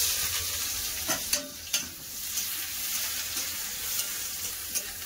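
Chopped onion with cut dried red chillies sizzles in mustard oil in a wok, a constant close frying hiss with a few sharp clicks and scrapes from stirring.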